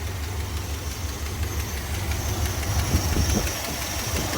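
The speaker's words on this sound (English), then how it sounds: "Sounds like an exhaust leak right here, though." A car engine with an exhaust leak idles with a steady low rumble and a rapid ticking, puffing beat, close up and continuous with no talking.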